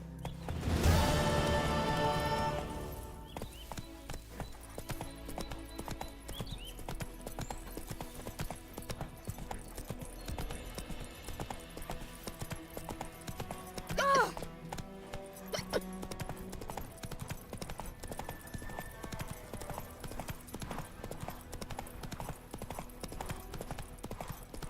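Roach, a horse in The Witcher 3, gallops with rapid, continuous hoof clip-clops throughout, opening with a louder burst of game sound before settling into a steady close rhythm, with a brief jolt midway.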